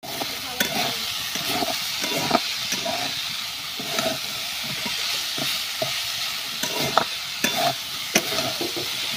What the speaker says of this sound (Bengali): তো আলুটা আমি কড়াই দিয়ে দিয়েছি, আর দেখো কেবলই দিলাম, সব দিয়ে এখন নাড়াচাড়া করছি।